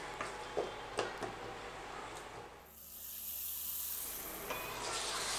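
Beef karahi with tomato and spices frying in a pan, a soft steady hiss and sizzle with a few light clicks, the hiss thinning briefly midway and then returning.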